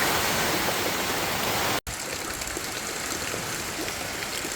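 Heavy rain pours steadily in dense broadband hiss outside a small hut, loud and continuous, with a brief dropout partway through before the downpour resumes just as strong.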